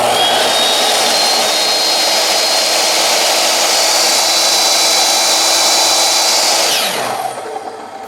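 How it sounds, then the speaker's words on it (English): A power saw whines loudly and steadily for several seconds, then winds down near the end. "we're going to turn the saw on and see what that does."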